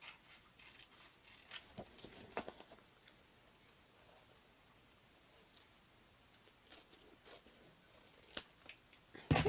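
Quiet crisp snips and rustles as scissors cut around paper for a pop-up Mother's Day card, irregular small cuts close by in a quiet room.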